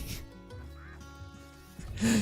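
Geese in the hunting game Call of the Wild give faint honking calls over a steady tonal game ambience, ending in a louder, brighter burst.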